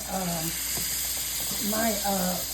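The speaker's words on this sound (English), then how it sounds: "I got a little oil in there, and I'm gonna put some butter in here" Oil and butter in a frying pan give a steady, close sizzle and hiss that continues under a person talking.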